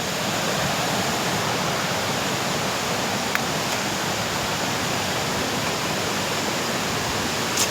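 Ghonsari waterfall in Kankavli taluka, Sindhudurg district, Konkan, pouring steadily: a loud, dense roar of falling water that holds unbroken and close for the whole stretch, with no voices over it.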